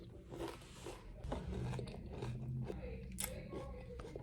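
Crunchy chewing of a bowl of Cheerios mixed with honey oats cereal, close up, with repeated bites and a steady rhythmic crunch through the clip and no talking.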